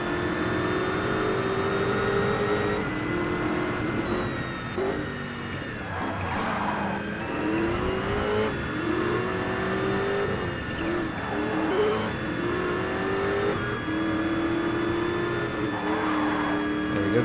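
A race car's engine drones and shifts pitch continuously in the GRID racing game, with tire squeals and skids from drifting through turns and a steady, close, unbroken roar throughout.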